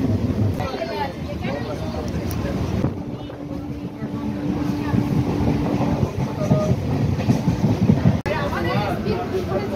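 Rumbling, wind-buffeted noise from inside a running passenger train that is nearly empty, a steady rolling roar with a brief tonal hum, heard close up with no talk over it.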